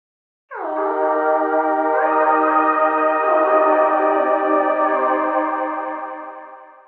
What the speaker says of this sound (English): a vocal sample completely transformed into a sustained synth